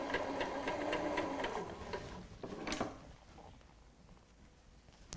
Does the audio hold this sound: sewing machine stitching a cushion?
yes